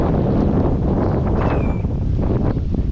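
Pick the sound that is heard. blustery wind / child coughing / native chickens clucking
blustery wind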